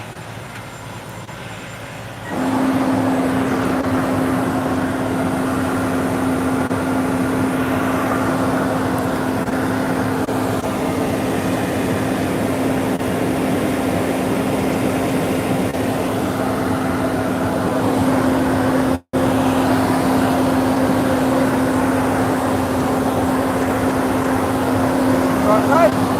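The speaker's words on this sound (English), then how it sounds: "That guy's truck." A loud truck engine starts up and then runs close by with a steady droning rumble and a constant hum, continuing for over twenty seconds, with people talking over it.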